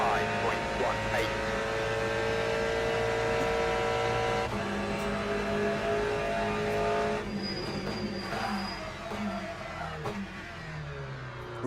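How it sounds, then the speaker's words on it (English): Race car in Le Mans Ultimate sim racing, engine droning steadily with a brief tyre squeal as the front wheels lock under braking, continuous and close throughout. "Really locked up the front there."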